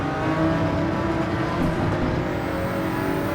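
A Jaguar XJR9 race car from 1988 at Spa in Gran Turismo 7, its engine holding a steady loud drone with rich harmonics, close and continuous with no talk over it.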